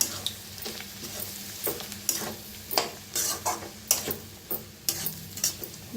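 A spoon stirs bhakri pieces into roasted spiced masala in a pan, with irregular scraping strokes and light sizzling, close and fairly quiet, no voices.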